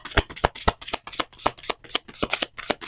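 Rider-Waite design holographic tarot cards shuffled by hand: a rapid, regular run of crisp riffling flutters, close and clear, with no talk.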